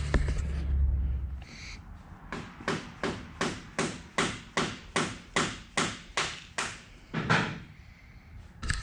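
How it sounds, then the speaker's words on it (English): Steady metallic hammer blows while working on a KTM 350 EXC-F dirt bike, about a dozen strikes in an even rhythm, close and loud, with a short pause before a final heavier hit. "He's hitting things with hammers."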